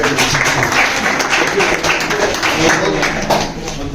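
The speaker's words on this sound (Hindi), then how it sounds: "तालियां बजाओ" Students clapping together at a school awareness camp, a dense, loud burst of hand claps running throughout, with voices mixed in underneath.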